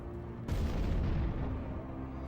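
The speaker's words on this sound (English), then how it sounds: "Where'd you get a cannon?" Enemy cannon fire in the video game American McGee's Alice, a heavy booming blast that sets in sharply after a brief lead-in and rumbles on for a couple of seconds, loud and dense, with no talking.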